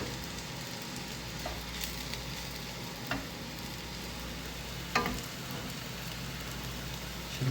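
Gnocchi frying in clarified butter in a hot pan, a steady crackling sizzle held throughout with a few soft clinks and stirring knocks over it.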